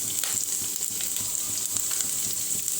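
Chopped garlic with cumin and fenugreek seeds frying in hot oil in a pan, a steady loud sizzle with crackling spits throughout.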